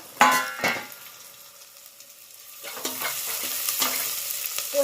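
Curry leaves and onion frying for poha, opening with a couple of loud spoon clatters, a brief quieter pause, then a rising crackling sizzle with scraping stirs, close and without speech.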